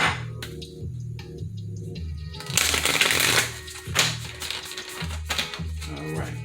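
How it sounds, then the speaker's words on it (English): Tarot cards are shuffled by hand in quick riffling bursts, crisp papery flutters and slaps close up, repeating in several rounds. "we'll shuffle one more time"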